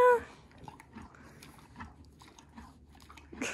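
A dog chews and crunches on a treat close by, with irregular soft bites and mouth sounds at a quiet level, preceded by a brief whistle-like tone.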